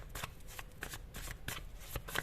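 Tarot cards shuffled and handled up close in a few quick riffling bursts, crisp papery flutters repeating over a couple of seconds.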